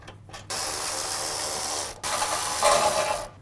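Loosening 12 mm bolts under the frame horn behind the front bumper of a 2021-2023 Subaru Crosstrek: two bursts of rapid ratchet clicking, close and loud, split by a short pause.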